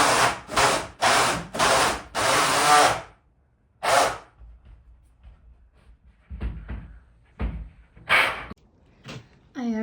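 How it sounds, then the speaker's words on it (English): A cordless drill bores holes through wooden studs during tiny-house plumbing rough-in, sounding as five loud whirring bursts in quick succession, then a longer pause broken by weaker, shorter spurts and clunks as the battery fades. "I have drilled one hole, and now I started the second hole, but the battery of the drill is starting to die"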